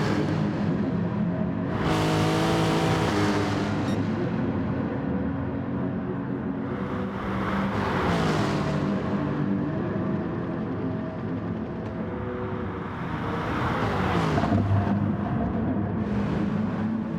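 A Porsche Gr.4 race car engine in Gran Turismo drones steadily around the Sardegna circuit, rising and falling in pitch through three clear acceleration sweeps as it shifts through the gears.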